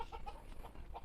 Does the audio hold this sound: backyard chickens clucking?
yes